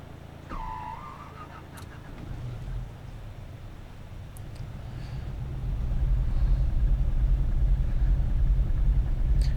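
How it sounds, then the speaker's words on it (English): Aircraft engine starting up in Microsoft Flight Simulator X: a low rumble with a brief whine at first, building into a louder, steady droning roar in the last few seconds. "Engine start."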